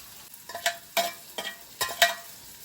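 Chopped tomato and onion frying in a pan, heard as soft sizzling broken by intermittent stirring scrapes, roughly five short bursts, close and fairly quiet with no talk.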